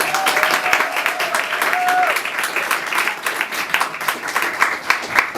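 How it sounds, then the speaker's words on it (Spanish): An audience at a talk on transmasculinity gives a strong round of applause, loud, dense clapping from many people throughout, with a brief whistle-like tone early on. "Muy bien, un fuerte aplauso,"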